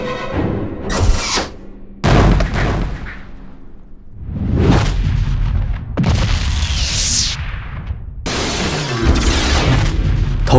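A cartoon cannon fires a shot in an animated film: heavy booming blasts with whooshing sweeps and rumbling bursts, loud and layered through the whole stretch, no voices.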